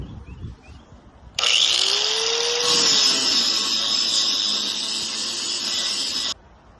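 A power grinder bears down on welds on steel hangers, smoothing them in one continuous high, harsh whine that lasts about five seconds. The disc spins up with a brief rising pitch, and the sound stops abruptly.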